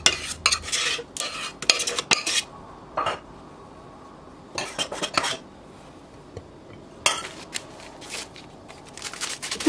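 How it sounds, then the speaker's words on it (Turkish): Cream being whisked in a bowl, a series of quick scraping and clinking bursts in uneven clusters separated by short quiet gaps, close and fairly clear with no talking. "içine ekleyerek çırpmaya devam ediyorum"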